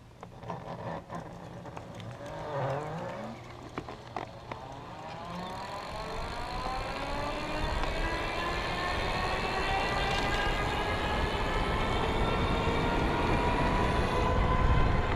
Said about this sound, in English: I'm gonna go ahead and take this hill from standstill just to give you an idea of what this motor can do.